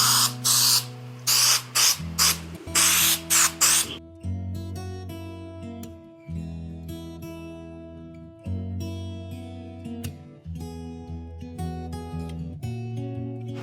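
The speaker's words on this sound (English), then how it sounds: "I'm going to spray the border here and fold these pieces over." Aerosol spray adhesive hisses in several short, loud bursts at close range while the border of a framed T-shirt piece is sprayed, followed by background music.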